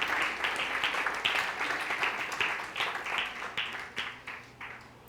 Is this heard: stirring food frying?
no